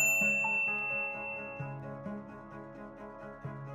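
A bright notification bell chimes once at the start and rings out with a long decaying tone, while a soft background music bed continues beneath it.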